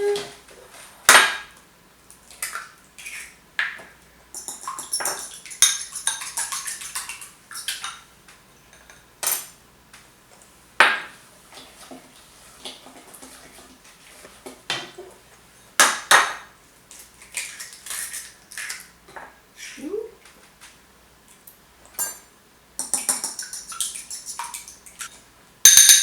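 Eggs are beaten in a bowl for butter tarts with a utensil, giving bursts of rapid clinking and tapping that stop and start, close and fairly sharp, separated by quiet pauses.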